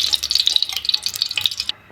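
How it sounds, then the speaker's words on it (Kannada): Oil streams into a heated pressure cooker while cooking empty biryani, a close, continuous liquid trickle with small dripping pulses that cuts off abruptly near the end. "ಎಣ್ಣೆ ಹಾಕ್ತಾಯಿದ್ದೀನಿ"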